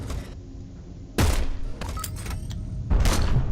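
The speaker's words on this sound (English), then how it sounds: "Whoa, that part of the ship blew up." A ship section explodes in the video game Heat Signature after a fuel tank goes off: two loud, sharp blasts about two seconds apart over a quieter, crackling background hum.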